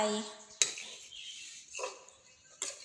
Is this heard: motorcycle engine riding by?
no